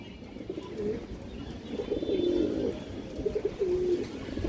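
Ring-eyed pigeon cooing in a series of soft, rounded calls, several coos spread across the stretch with a steady low background hum, fairly close and moderately loud.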